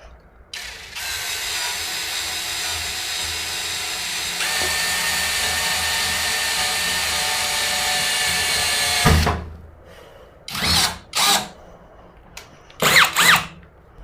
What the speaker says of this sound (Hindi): ये देखिए मेटल में आधे से ज्यादा ड्रिल हो चुका है। वापस से कर लेते हैं, थोड़ा सा ही ड्रिल बचा है।